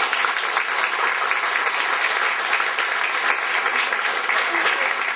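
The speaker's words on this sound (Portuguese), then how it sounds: "Para todos, peço uma salva de palmas." Audience applauding at an association's second anniversary session, a loud, continuous wash of clapping from a large crowd with no gaps.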